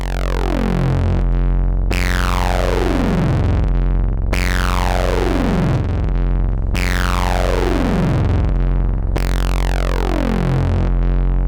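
Loud, heavily distorted notes from an Intellijel Cascadia synthesizer with a 6 dB filter and heavy drive repeat in long sustained hits about every two and a half seconds, each with a sweeping downward filter tone.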